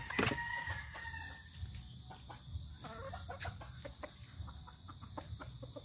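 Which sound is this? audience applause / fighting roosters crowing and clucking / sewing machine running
fighting roosters crowing and clucking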